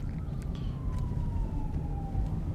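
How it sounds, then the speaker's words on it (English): An ambulance siren on a road in Norwich, Connecticut, heard from inside a moving car, wails in a long, slowly falling tone at a distance over steady road rumble. "That ambulance is heading somewhere."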